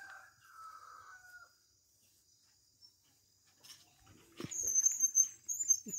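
A rooster and hens settle at the roost of a rural farm coop, with brief clucks and calls, some quiet gaps and louder squawks building toward the end; insects chirp faintly in the background.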